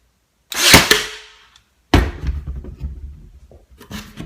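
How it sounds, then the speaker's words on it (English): A Ryobi 18-gauge brad nailer fires a brad into a piece of cove molding: one sharp, loud pneumatic snap with a quick decaying ring, followed after a pause by close handling clatter and rustle. "I want to shoot it into this piece of cove molding over here."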